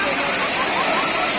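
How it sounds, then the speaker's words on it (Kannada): Sathodi Falls waterfall pouring down, a steady broadband rush of falling water that holds even and continuous throughout, close and fairly loud. "ನೋಡಿ ಹೇಗಿದೆ, ನೀರು ಯಾವ ಥರ ಬೀಳ್ತಾ ಇದೆ."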